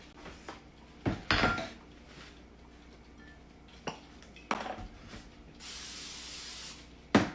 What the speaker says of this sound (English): All right, I'm gonna spray my pan.